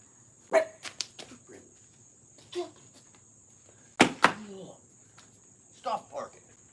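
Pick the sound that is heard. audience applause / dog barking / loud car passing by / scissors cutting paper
dog barking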